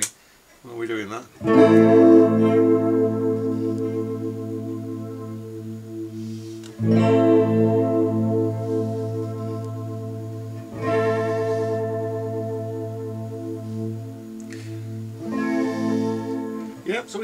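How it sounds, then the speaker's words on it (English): Electric guitar played through an EHX Stereo Poly Chorus analog flange/chorus pedal with reverb on, four sustained strummed chords ringing out one after another with a swirling, sweeping modulated shimmer. "it's not a chorus, it's not a flanger, it's not a delay pedal, it's sort of a mixture of those things"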